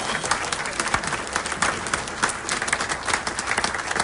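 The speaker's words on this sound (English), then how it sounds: "A round of applause, please." A church congregation at a Sunday service claps for a newly baptised member, steady and dense applause filling the whole stretch with no voices over it.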